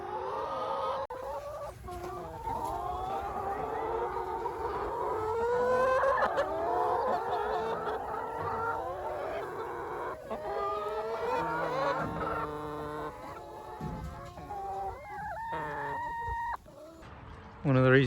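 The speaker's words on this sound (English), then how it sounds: "Happy chickens." Layer chickens cluck and chatter steadily out on spring pasture, a busy flock of overlapping calls close by, with an occasional crow-like call and a brief louder burst near the end.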